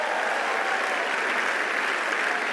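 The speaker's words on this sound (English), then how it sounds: "can somebody give a hand clap to Jesus right now?" A chapel congregation claps during a Sunday service, a dense, steady wash of many hands held at an even level throughout, with no voices standing out.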